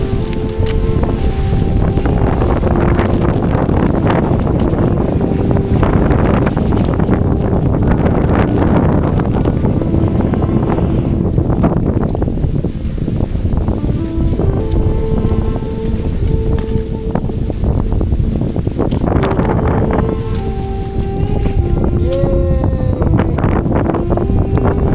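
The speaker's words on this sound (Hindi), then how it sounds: "बहुत तेज हवा चल रही है।" Strong wind at a valley viewpoint in Tamhini Ghat, a loud, constant roar with heavy gusting buffeting the microphone throughout.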